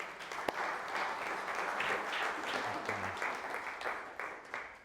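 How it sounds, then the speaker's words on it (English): Moderate applause from an audience at a housing presentation, continuous and fairly distant, holding steady for a few seconds before fading out. "Let's have another round of applause for Heather."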